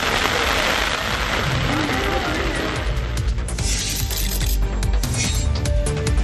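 Moderate rain falls in Kodaikanal, a dense, steady hiss of drops that carries on without a break for the whole stretch, loud and close.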